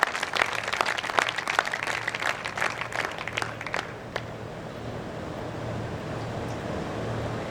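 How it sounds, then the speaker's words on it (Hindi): Hall audience at a Hindi poetry gathering claps to welcome the poet, loud close individual claps in a busy burst that fades after about four seconds into a low crowd murmur. "इनके लिए भी मैं स्वागत की तालियों की गुजारिश आपसे करता हूं"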